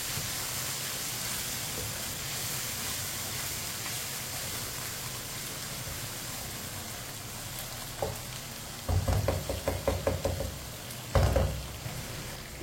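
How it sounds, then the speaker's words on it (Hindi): Chopped onion and crushed garlic cooking in a pan, a soft steady sizzle that runs throughout, then sharper bursts of spatula stirring and scraping near the end. "लहसुन और प्याज को भी मैंने 2 मिनट के लिए पका लिया।"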